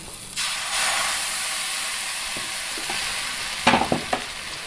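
A loud, steady sizzle of rice-flour appam batter hitting a hot pan, hissing continuously, with a few soft clinks of a utensil near the end.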